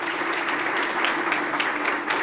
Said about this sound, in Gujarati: એટલે જોલીબેનને તાળીઓથી વધાવીએ.